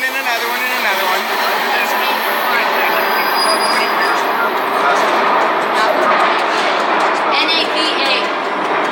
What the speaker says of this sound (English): No, there's my train.